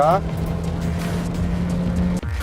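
A Peugeot 4008 with a CVT belt transmission accelerating toward 140 km/h: a loud, steady droning engine and transmission hum from inside the cabin that briefly dips near the end.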